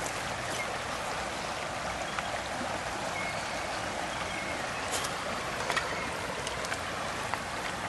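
Water trickles and gurgles steadily as a drinking container fills while held in a flowing stream outdoors, a soft continuous wash with faint drips and bubbling, no talking.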